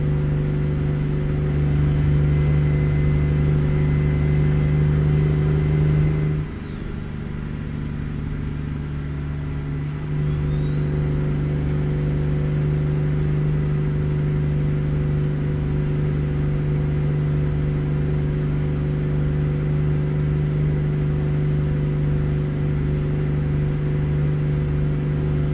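A Freightliner Argosy truck with a Detroit 14-litre engine in American Truck Simulator: a loud, steady, low diesel drone. It drops briefly in a gear change, then resumes with a high whine above it, with no talk.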